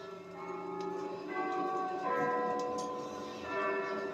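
Cathedral bells ring in a cartoon soundtrack, with layered sustained tones that strike and overlap at a moderate level, faint and slightly distant.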